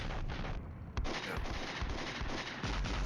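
Mortar barrages and explosions rumble through the Cold War wargame Flashpoint Campaigns, dense and continuous low booms with sharp bursts near one second and again toward the end, heavy and close, with no speech over them.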